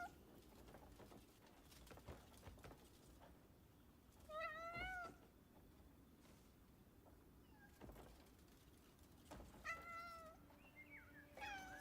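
Cat meowing inside the video game Crimson Desert: two short, rising meow calls, one at about four seconds and another near ten seconds, heard over low ambient game noise.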